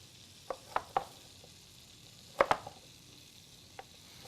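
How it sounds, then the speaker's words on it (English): A knife taps on a cutting board while chopping squash and zucchini, a few sparse, fairly quiet cuts with a tight double strike in the middle and a last faint tap. "Both the squash and the zucchini you want to cut in that manner."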